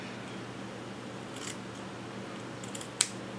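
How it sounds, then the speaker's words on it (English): Scissors snip through a t-shirt being cut into a continuous yarn strip, a few quiet crisp cuts with one sharper clip near the end, close over a low steady background hum. "you're going to start from the edge of your t-shirt and cut straight over to your next"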